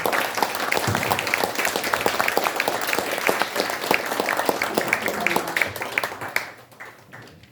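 An audience at a commemorative ceremony gives sustained applause for two grandsons of an independence activist, dense clapping lasting several seconds before tapering off, with a brief word of thanks spoken near the end.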